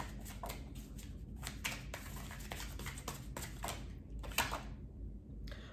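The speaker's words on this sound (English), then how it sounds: "let me pull you guys some of these oracle cards" Oracle cards shuffled by hand during a tarot reading, a dense run of quick riffling flicks and soft slaps that come in bursts with short gaps, close and fairly quiet, no talking.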